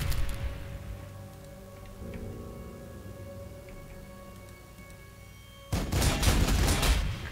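Dense bursts of gunfire from the game Warhammer 40,000: Sanctus Reach crackle over a rumbling battlefield backdrop, swelling into a loud, sustained volley near the end.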